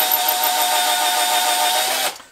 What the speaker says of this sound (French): moi j'ai mis une visseuse comme ça qui va plutôt bien